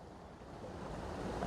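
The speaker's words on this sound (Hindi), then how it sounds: "जैसे ही आगे बढ़े यहाँ पे ये छोटी सी जलधारा मिल गई।" A small mountain stream on a Himalayan trek, a continuous close rushing and gurgling of water that swells slightly toward the end, with no talking.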